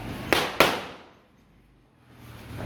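A firecracker bursts with two sharp, loud cracks in quick succession outdoors, followed by a quiet stretch and returning faint background noise.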